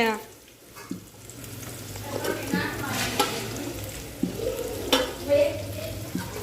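Okra frying in hot oil, a steady crackling sizzle with occasional louder pops and scraping stirs, close by.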